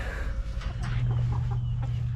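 Hens cluck and a big rooster calls near a chicken tractor, close and fairly loud, with steady low background hum and no talk.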